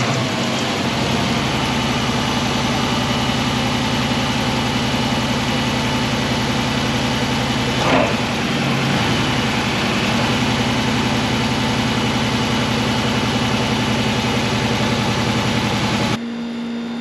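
A 2006 Chrysler 300 SRT8 V8 settles into a loud, steady idle close by, its deep low rumble running continuously with a brief blip partway through before it cuts off near the end.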